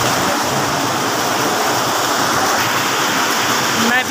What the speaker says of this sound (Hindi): यहाँ पर ये पानी का जो चश्मा है इसको आप देख रहे हैं।